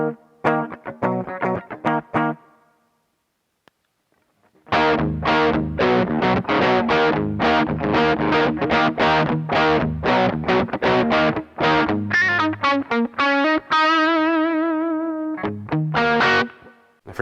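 Electric guitar played through a Joyo British Sound overdrive pedal with a spring reverb pedal, giving loud, crunchy distorted strums and chords. A short burst opens, then a pause and a longer driven riff that ends on a ringing, decaying chord.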